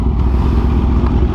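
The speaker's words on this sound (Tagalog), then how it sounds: "Ito na yun, Kawasaki H2. Tapos yung sigaw, sigaw na napakalupit eh." A Kawasaki H2 supercharged motorcycle, 2023 Carbon or 2015 original, roars loud and close with a steady, dense engine note throughout, no talk over it.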